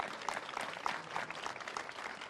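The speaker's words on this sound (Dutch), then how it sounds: "Nog een groot applaus." Scattered applause from an audience at a Frisian village event, fairly quiet and uneven, with individual claps standing out.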